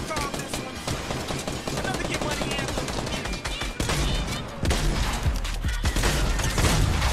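A minigun and other weapons firing in a Fortnite Playground mode match, a dense, unbroken rattle of rapid shots that stays loud throughout, with thumps and game effects mixed in.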